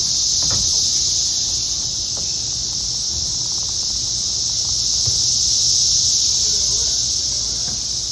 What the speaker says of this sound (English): the cicadas were out in full force, like louder than loud